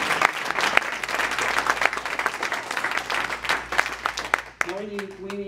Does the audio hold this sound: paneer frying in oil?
no